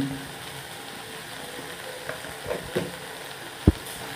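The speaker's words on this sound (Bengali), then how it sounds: "এইভাবে নাড়াচাড়া করে আমি লাল করে নেব। থোড় ভাজাটা আমার লাল হয়ে গিয়েছে।" Chopped banana stem fries quietly in a pan with a low, steady sizzle, broken by a few soft knocks and scrapes of stirring near the end.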